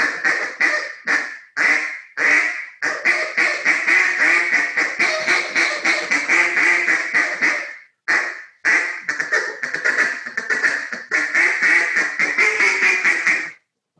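Jargon Game Calls live duck call blown by a caller, imitating a high-pitched young hen duck with rapid, loud quacking sequences that run continuously with only brief pauses.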